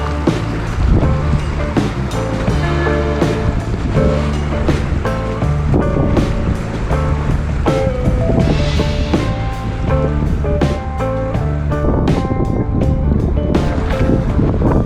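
Strong wind blowing at a creek during a cold steelhead fishing outing, a loud, steady rushing roar that buffets the microphone and stays dense throughout, with no talk.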